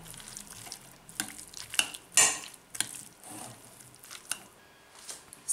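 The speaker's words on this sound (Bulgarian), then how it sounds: "И започваме да разбъркваме" A chicken and corn salad with mayonnaise is stirred in a bowl with a spoon, making soft irregular clinks, scrapes and squishes, close and fairly quiet.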